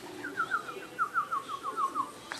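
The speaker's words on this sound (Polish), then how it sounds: "Teraz siadły znowu na kalenicy innego gołębia." Racing pigeons returning to a loft settle on a roof ridge, giving a short run of soft, rhythmic cooing calls, close and moderately quiet, ending with a brief rustle.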